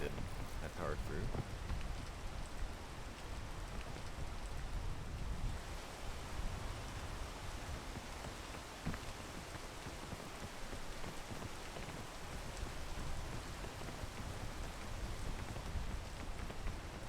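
Steady rain falls in the video game PEAK as a continuous soft hiss of drops, spread evenly and unbroken from start to finish with no other sound on top.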